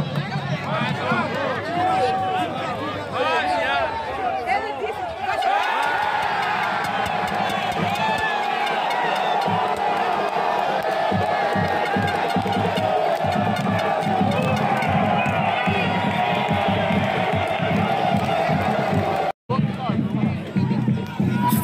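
A Brazilian football crowd at a Fluminense de Feira home match against Juazeiro roars and cheers after a late goal, a loud sustained wall of shouting that stays dense throughout, with a commentator speaking over it.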